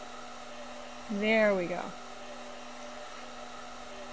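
A hair dryer drones steadily while a dog is dried in the Animal Shelter Simulator game, a constant even hum running throughout, with a brief spoken phrase over it.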